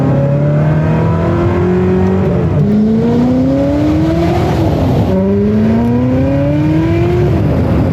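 A high-revving Ferrari 360 engine accelerates through rising gear pulls, with loud whining harmonics climbing and dropping at shifts, close and continuous.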